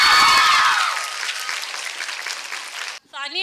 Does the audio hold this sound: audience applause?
yes